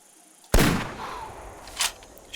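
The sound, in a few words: gunshot from video game Bushrangers Run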